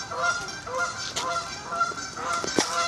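Waterfowl at a zoo give repeated nasal honks, several calls in uneven bursts at moderate distance over steady outdoor background noise.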